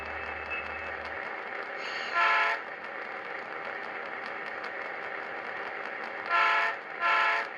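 A train rolls slowly through a rail yard under a speed restriction, a steady low rumble of cars throughout, with two loud horn blasts, one near the middle and another pair toward the end.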